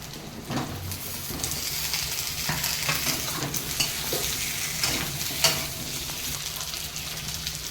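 Potatoes and garlic fry in oil in a pan, giving a loud, close, continuous sizzle with occasional stirring scrapes and crackles and no voices.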